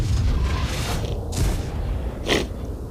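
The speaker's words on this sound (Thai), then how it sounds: "ปืนใหญ่โจมตี" Artillery fire in the Rusted Warfare strategy game: a couple of booming blasts burst out over a steady, noisy low rumble of battle, one near the middle and a louder one toward the end.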